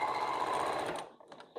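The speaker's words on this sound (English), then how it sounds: "It's just sewing the entire strip onto the side of the block." Sewing machine stitching a fabric strip onto the side of a quilt block: a steady, close mechanical whir with a fast rhythmic chatter that runs for about a second before stopping, leaving faint handling noise.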